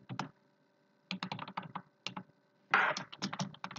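Bursts of keystrokes on a computer keyboard as a sentence is typed, several quick clusters of clicks separated by short pauses, close and clear with no talking.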